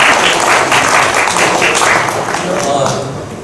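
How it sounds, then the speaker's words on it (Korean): Sustained audience applause fills a room at a policy forum, loud and dense at first and gradually tapering toward the end. "힘찬 박수 부탁드리겠습니다"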